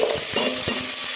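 Onion fries in hot oil with cumin, mustard seeds and chilies, a steady close sizzle broken by a few soft rhythmic scrapes and taps of stirring.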